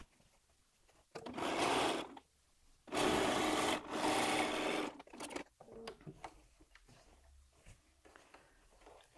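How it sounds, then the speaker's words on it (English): Sewing machine stitching strips of light quilting fabric to dark fabric for a jelly roll quilt, running in two loud bursts of steady whirring with a short pause between, then quieter handling noises. "I'm going to sew the light fabric on either side of my dark fabric."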